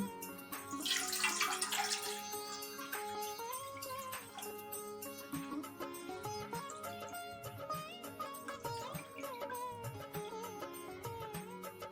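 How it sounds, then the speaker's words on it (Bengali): One and a half litres of milk is poured through a strainer for Janmashtami payesh, giving a brief splashing, trickling pour near the start that then fades under steady background music. "এবার দুধটাকে ছেঁকে নেবো"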